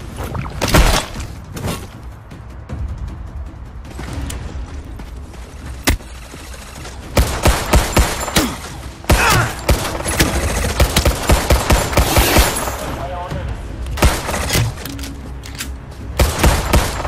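Heavy enemy gunfire rakes a Navy force in the Battleship video game: sustained automatic fire mixed with loud individual shots, thuds and shattering impacts, dense and continuous throughout with bursts intensifying toward the end.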